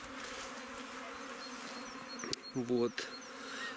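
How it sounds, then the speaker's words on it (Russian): Honey bees buzz steadily at a beehive in an apiary, a continuous close insect drone running throughout, with a brief spoken word partway through. "Здесь больше всего пчелок."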